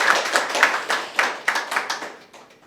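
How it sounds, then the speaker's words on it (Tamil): A small audience at a Tamil talk on astrology and marriage claps in a short burst of distinct, fairly close hand claps at an uneven rhythm, gradually thinning and fading out. "ஒரு கைத்தட்டல் கொடுக்கலாமே"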